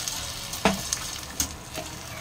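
Water from a rinsed bowl is poured onto potatoes frying in a pan for a ridge gourd and poppy seed dish. A sharp burst of sizzle follows, with a few light clicks over a soft hiss.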